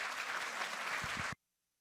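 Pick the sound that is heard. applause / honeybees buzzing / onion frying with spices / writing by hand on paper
applause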